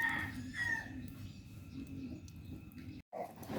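Hens cluck and call close by in a rural setting, with short raspy squawks and murmurs over a rough, noisy background, then a sudden brief dropout near the end.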